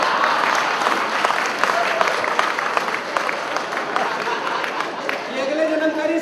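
An audience at a Hindi comedy poetry event claps steadily throughout, a dense, sustained patter of applause with a voice briefly audible near the end.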